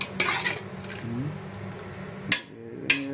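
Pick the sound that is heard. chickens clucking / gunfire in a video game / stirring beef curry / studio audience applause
stirring beef curry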